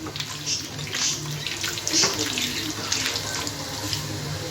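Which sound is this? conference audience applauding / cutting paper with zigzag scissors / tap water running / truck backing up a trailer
tap water running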